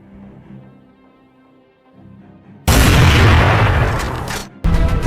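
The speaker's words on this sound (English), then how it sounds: "A shot sounded, and the animal collapsed just a few meters from me." A single loud rifle gunshot cracks out during a wild boar hunt in a forest after quiet low rumbling, its broadband blast sustaining briefly before a second sharp report follows near the end.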